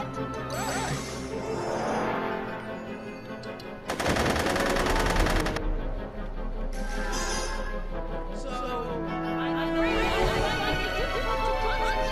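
Rapid gunfire in the Back to the Future Telltale video game, a dense burst of machine-gun shots lasting about two seconds, loud against a busy game soundtrack with horse whinnies and clip-clop.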